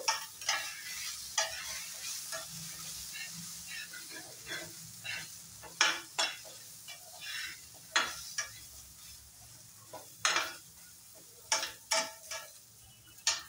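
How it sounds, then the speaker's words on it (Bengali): Carrot, potato and green chilli fry in a pan with no oil for a vegetable soup. A steady soft sizzle runs throughout, broken by a dozen sharp spatula scrapes and taps in an irregular rhythm. No one speaks. "একটু দিয়ে দিব আলু, দিয়ে দেবো একটু কাঁচা লঙ্কা, আবার একটু ভেজে নেব।"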